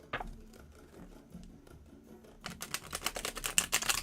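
A tarot card deck being handled and shuffled, quiet rustling at first, then a rapid run of crisp riffling card flicks close to the microphone.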